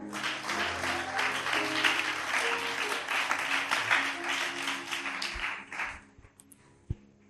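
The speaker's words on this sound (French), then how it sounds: "Ça s'acclame cela." A church congregation applauding during a sermon, dense sustained clapping from many hands that thins out and fades to scattered claps at the end.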